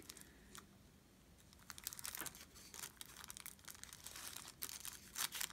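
Soft, close crinkling and rustling as a diaper is folded very small for a circus carousel diaper cake, faint and irregular with light plastic crackles and no talking.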